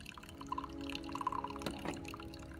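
Sulfuric acid drips into a wastewater sample in a lab during a hardness test, a few small, faint drops falling one at a time over a low background hum.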